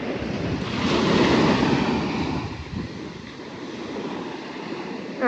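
Sea waves wash onto a beach in a steady rushing surge, swelling and receding, with wind buffeting the microphone and no voices.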